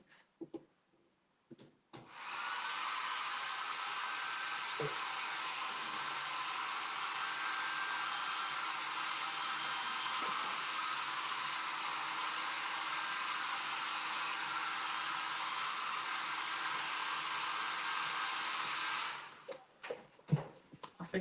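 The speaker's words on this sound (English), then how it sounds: "The blow dryer wouldn't pull off the wall and plug in." A wall-mounted blow dryer switches on and runs as a loud, steady high-pitched whoosh for about seventeen seconds before winding down, with small handling knocks before and after.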